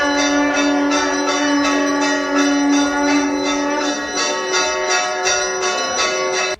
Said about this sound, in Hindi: पुजारियों और संतों ने शंखनाद किया।